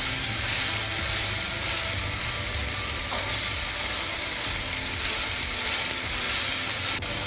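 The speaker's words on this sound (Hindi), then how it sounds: "अब इसको हम थोड़ी देर भूनेंगे" Spiced masala for chole roasting in hot oil in a pan, with a steady loud sizzle and hiss filling the whole stretch, close by, with no talking.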